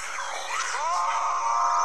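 A character in an animated Skibidi series screams, a sustained, loud, high-pitched cry lasting about two seconds with rising and falling tone, heard alone without talk.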